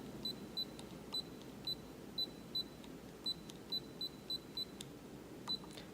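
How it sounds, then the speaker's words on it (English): Repeated short electronic beeps from an ELECYLINDER digital speed controller, about a dozen crisp chirps spaced irregularly over steady background hiss. "that is a very annoying beep"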